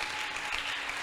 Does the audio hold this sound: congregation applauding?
yes